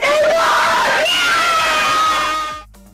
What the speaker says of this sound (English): My apologies to your ears for the screaming